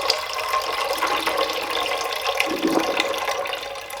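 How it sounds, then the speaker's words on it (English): Soaking water drained from chickpeas pours into a pan in a continuous gushing stream, close and steady, with a faint clatter and a slight shift in tone partway through. "pour the water from the peas"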